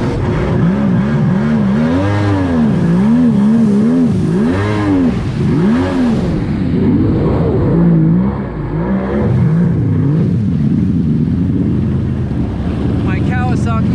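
A Yamaha WaveBlaster 1200 jet ski engine revs hard on a lap, its pitch rising and falling in repeated swoops, loud and close over wind and water rush.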